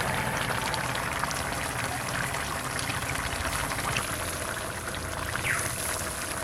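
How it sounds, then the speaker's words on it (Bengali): Raw mustard oil pours into a simmering rui fish curry, a steady liquid trickle under continuous bubbling and kitchen hiss, with no talk. "এর মধ্যে দেবো কাঁচা সর্ষের তেল"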